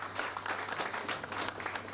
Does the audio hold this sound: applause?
yes